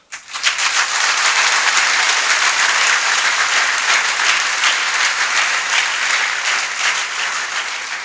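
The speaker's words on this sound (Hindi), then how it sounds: "ये जितने हाथ ताली बजा रहे हैं" A large audience applauds a success speech at a Safe Shop MLM event, a dense, loud and steady wash of clapping that swells in quickly and holds for several seconds.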